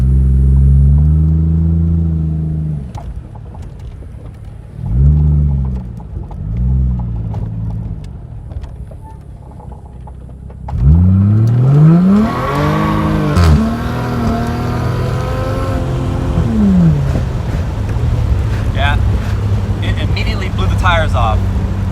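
A 1JZ-swapped Fox Body car on nitrous idles with short revs, then erupts into a loud, sustained roar with climbing engine pitch as the tires spin, holding at full volume near the listener until the end.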